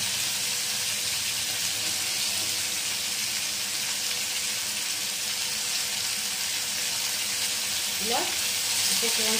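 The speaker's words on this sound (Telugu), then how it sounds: "వంకాయని ఆయిల్లోనే యాడ్ చేసేద్దాము. ఇలా కొద్దిసేపు వేగనిద్దామండి." Brinjals added one at a time frying in hot oil with salt, a continuous broadband sizzle holding steady throughout, close and moderately loud, with no talk.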